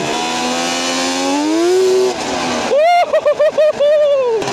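A big-block two-stroke racing lawn mower engine revs hard and loud nearby, its buzzing pitch climbing steadily before cutting off abruptly. A voice then speaks up close.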